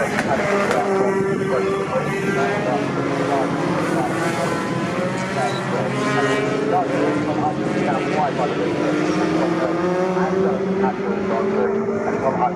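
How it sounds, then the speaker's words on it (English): Racing pickup trucks thunder past on the Snetterton circuit, their engines droning steadily with pitches that rise and fall as they pass, while a commentator talks continuously over the noise. "now coming through is a 72 truck of Alan Cooper."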